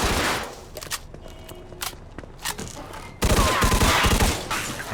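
Gunfire in Mafia 2 while a shop is shot up: a few separate sharp shots, then a dense burst of rapid automatic fire near the end, loud and close.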